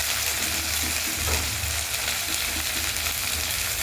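Chopped tomatoes hitting a hot pan of cumin and ginger paste, a loud, dense, continuous sizzle close up with brief stirring under it, no voices.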